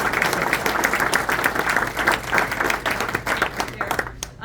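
Audience at an Ohio Republican Party chairman candidate forum claps for Gary Cates, lively dense applause with distinct individual hand claps, fairly close, briefly thinning before the end.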